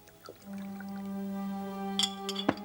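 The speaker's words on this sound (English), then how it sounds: "pours himself a glass of sherry" Sherry poured from a bottle into a glass, a steady rising ringing tone as the glass fills, ending with a couple of soft clinks, quiet and close.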